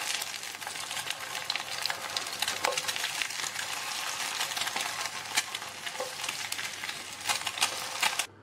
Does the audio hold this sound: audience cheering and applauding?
no